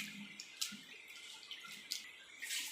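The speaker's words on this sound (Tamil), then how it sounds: "தண்ணி சேர்த்துக்குங்க." Water is poured over dried anchovy fish (nethili karuvaadu) in a cooking vessel, giving faint, scattered splashes and drips in a quiet room with no talk.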